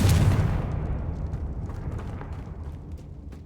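A Confringo blasting spell goes off in Hogwarts Legacy: a sharp, loud explosion that fades over a few seconds into a long rumbling tail, with no talking.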